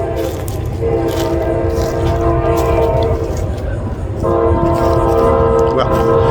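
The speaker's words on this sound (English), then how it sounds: "The train is coming." A passing train sounds its horn in long, loud sustained blasts beside a graveyard, with the steady rumble of the rail cars running underneath throughout.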